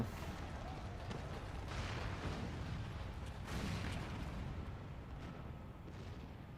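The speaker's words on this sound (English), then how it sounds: "The main tower just collapsed. You heard it too, didn't you? It must have been the cannon at Castrum Albania" Cannon fire from Castrum Abania in Final Fantasy 14 brings down a main tower: a dense, continuous low rumble with heavy booming surges that swell and fade without a break.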